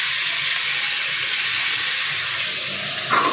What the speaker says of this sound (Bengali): আলু আর শিম ভাজা, আলু আর শিম একসাথে ভাজা।